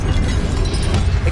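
An Incendio fire spell in a wizarding game gives off a steady, loud, low roaring whoosh that fills the whole brief moment without a break.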